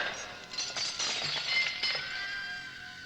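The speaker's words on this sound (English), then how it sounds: "the statuette shattering into 100 pieces on the floor" A statuette breaks apart on the floor with a cluster of sharp, glassy cracks and tinkling fragments scattering, fairly quiet, followed by a faint lingering clatter.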